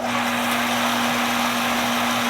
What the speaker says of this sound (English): Here is the March pump,